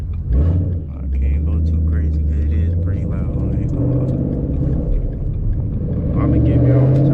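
Deep, throaty V8 rumble from a 2012 Ford Mustang 5.0 with resonators deleted, heard from inside while driving on a closed course, the engine droning and swelling with revs, loud and continuous, with a voice speaking over it.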